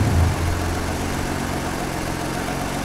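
A modified Nissan Skyline engine, tuned with aftermarket computer control, idles steadily and evenly, a low continuous rumble that stays loud and close without any talk over it.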